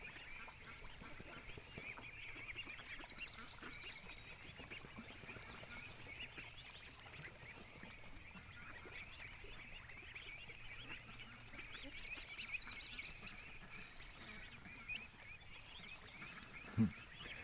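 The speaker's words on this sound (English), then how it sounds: "There's a lot more ducks behind me." Ducks quack and honk at a low level across a farm field, their calls repeating steadily over faint outdoor background noise, with one brief louder knock near the end.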